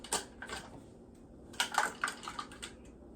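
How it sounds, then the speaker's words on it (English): Flour being stirred into banana bread batter in a bowl, with irregular scraping and thumping strokes that come in bursts, separated by short quieter pauses, close up with no talking. "Here's the flour that I'm mixing in there"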